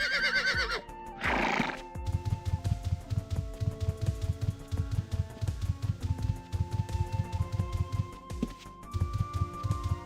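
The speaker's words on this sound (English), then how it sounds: "A horse." A horse in the video game Ultima Online whinnies loudly at the start, followed by a second shorter neigh, then a steady rhythmic clip-clop of hooves under game music.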